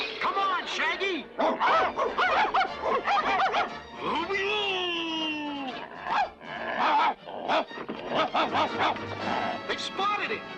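Cartoon dogs barking in a Scooby-Doo chase, a run of yapping barks and yips close by, mixed with voices and background music.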